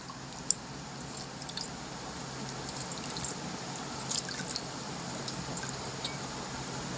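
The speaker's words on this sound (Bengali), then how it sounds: "এবার আমি ধুয়ে দেখাচ্ছি।" Hands being rinsed with water after lathering with homemade neem soap, a faint, steady trickle with scattered drips and small splashes close by.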